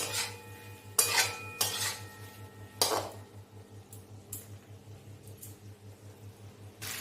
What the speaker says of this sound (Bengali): এরপর আমি ফ্রাইড চিকেনগুলো দিয়ে দেবো এর মধ্যে দিয়ে ভালো করে মিশিয়ে নেব